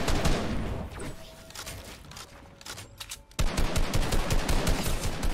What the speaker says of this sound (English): Someone's shooting me from behind.